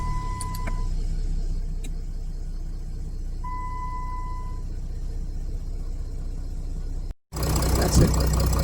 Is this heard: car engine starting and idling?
yes